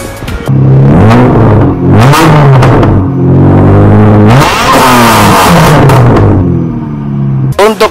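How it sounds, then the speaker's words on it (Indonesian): Mitsubishi Galant with a straight pipe exhaust, revved hard several times close by, each loud rise and fall of the raw engine note separated by brief idle dips. "Dia ditemani dengan knalpot straight pipe yang suaranya ada di sini."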